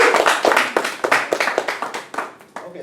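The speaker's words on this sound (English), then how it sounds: "if you can give her a big round of applause" Audience clapping at a Casanova Crew talk in Santa Monica, a round of applause for someone speaker: a burst of distinct hand claps, moderately loud and fairly sparse, tapering toward the end.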